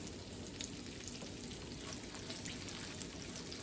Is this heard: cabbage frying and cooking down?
yes